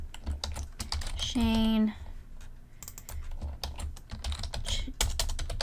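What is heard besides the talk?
typing names on a computer keyboard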